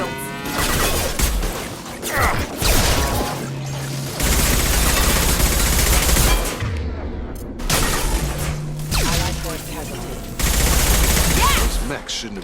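Video game gunfire aimed at hostile mechs comes as dense, loud bursts of rapid shots with booming impacts. The volleys break off briefly and then resume, and voices are heard shouting over the barrage.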